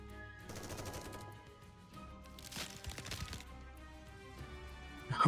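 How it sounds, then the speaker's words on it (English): Gunfire in the NIKKE video game with bullets striking an ice barrier, heard as bursts of rapid impacts over a steady music bed, peaking midway and again at the end. "Bullets flying from all directions slam to the ice barrier"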